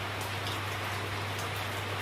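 Light rain drizzles steadily on a Friday afternoon after an earlier downpour had stopped, a soft continuous patter of drops on surfaces with a low steady hum underneath and no voices.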